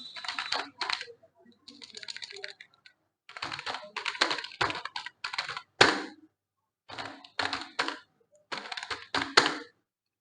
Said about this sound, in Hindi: मैंने यहाँ पर कुछ टाइप कर लेता हूँ पहले।